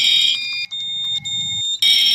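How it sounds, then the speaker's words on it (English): An ESC Genesis fire alarm on low tone inside a Roblox game gives a steady, high electronic tone that drops away briefly, then returns; moderately loud, with no voices. "you can barely hear the ESC Genesis because it's on low tone"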